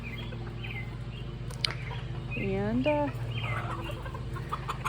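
A mixed flock of backyard chickens clucking and murmuring close by, with one hen giving a rising, drawn-out cackle midway, over a faint steady hum and a quiet voice.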